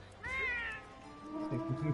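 The cat companion in the video game Monster Hunter: World gives a clear, close meow, followed by a few softer chirping mews, while players talk quietly underneath.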